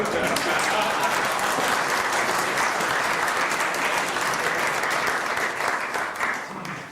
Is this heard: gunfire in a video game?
no